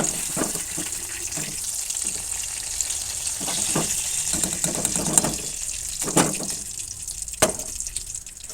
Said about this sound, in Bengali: এবার আমি কুমড়োটা ভেজে নেব কুমড়োটাও আমি লাল লাল করে ভেজে তুলে নেব